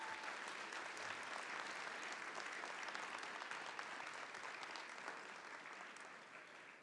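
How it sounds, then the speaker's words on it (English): An audience at an annual honors convocation gives sustained applause, a steady wash of clapping heard from a distance that tapers slightly toward the end. "let's provide applause for Mark once more"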